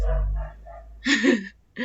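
Neighbourhood dogs bark outdoors at a moderate distance, a few sharp barks in an irregular burst after softer yelps, heard alone without talk over them.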